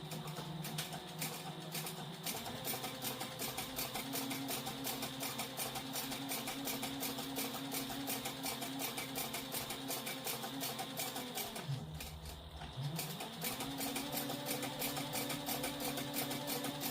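A sewing machine runs steadily while tacking down a satchel seam with an eighth-inch seam allowance, its motor drone continuous and close, with a short slowdown and pause partway through before it resumes.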